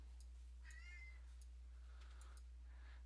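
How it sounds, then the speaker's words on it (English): A pet cat meows indoors during an art lesson, giving two or three faint, short meows from nearby in an otherwise quiet room with a steady low hum. "it sounds like my cat wants to join us"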